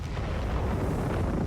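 Grenades burst against a Vespa in Company of Heroes 3, a dense, roaring explosive rumble that stays heavy and continuous from start to finish, close and loud, with no speech on top.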